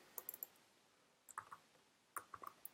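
A few quiet clusters of computer keyboard key clicks come in short bursts separated by pauses, with faint background hiss and no voices.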